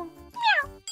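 A single house cat meows once, a short, rising-and-falling cry close to the mic, with brief background noise around it.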